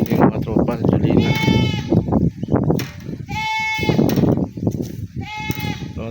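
A young goat on a farm bleats loudly and close by in several wavering calls spaced through the stretch, with someone talking between and under the bleats.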